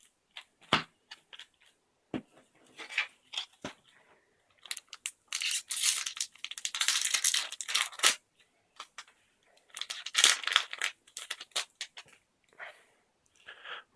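Rivals of Ixalan booster pack wrappers being torn open and crinkled, quiet stretches broken by sharp tearing bursts and busy crackly crumpling in irregular clusters, close up and without speech.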